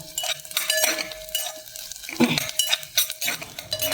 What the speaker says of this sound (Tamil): அதனால் நெய்யில் நல்லா வறுத்து எடுத்துக்கலாம்